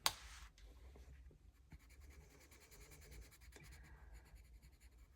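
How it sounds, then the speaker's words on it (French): A pen or felt marker colours in a box on a paper savings chart by hand, close and quiet: a sharp tap at the start, then a continuous soft scratching and rubbing with short back-and-forth strokes. "je vais colorier juste celle-ci."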